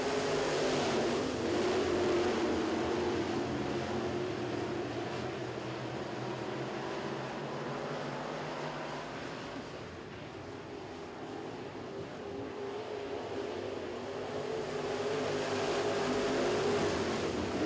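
NeSmith late model race cars fire up and get back underway at Magnolia Motor Speedway, their engines merging into a steady, fairly distant roaring drone that swells and dips slightly.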